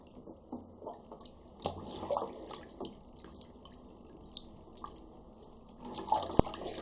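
Water splashing and dripping in a sink while a plush African wild dog toy is washed, with intermittent trickles and drips, close and moderately quiet, no talking.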